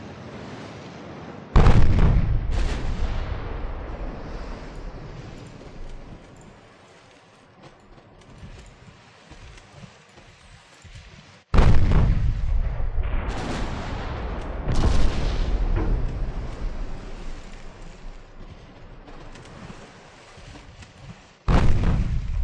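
Warship guns firing in a naval battle in Ultimate Admiral Dreadnoughts: a few heavy booming salvos, each bursting in loud and deep and then rolling off into a long rumbling decay, with no voices.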